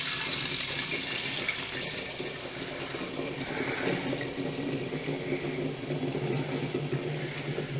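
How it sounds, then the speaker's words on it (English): Warm pale ale wort pours from a brewing pot into a carboy, a steady continuous splashing rush of liquid that runs alone at a constant level throughout. "I'm going to transfer it off into the carboy, and then let it finish cooling from there."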